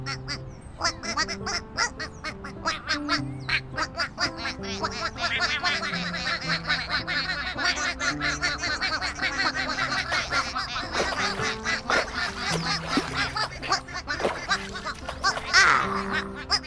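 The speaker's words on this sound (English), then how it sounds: "Big Blue made sure that all 12 ducklings found the pond." Ducklings quack in the Endless Numbers educational game, a busy run of short cartoon calls over a steady musical tune, with sparkly effects toward the end and no talk.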